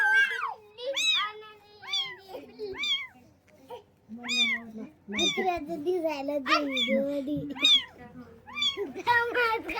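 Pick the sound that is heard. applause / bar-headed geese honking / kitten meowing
kitten meowing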